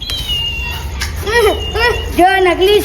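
A person imitates a cat's meow, giving a string of rising and falling mewing calls that come close together, loud and near, over a steady background.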